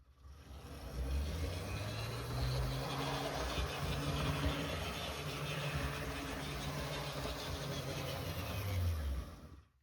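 An Athearn Super F7 HO scale model locomotive, once seized, runs steadily in reverse around the track, giving a continuous mid-pitched motor hum with gear whine and rising, falling tones as it travels, close and fairly loud, with no talk.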